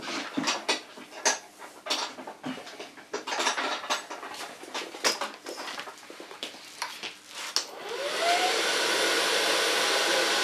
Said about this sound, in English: And I just blow dry the hair straight up.